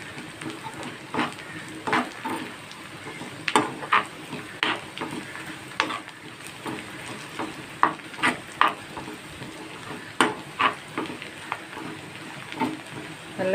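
Bitter gourd fries in a pan with a continuous close sizzle, and a spoon scrapes and stirs in irregular bursts that rise and fall throughout.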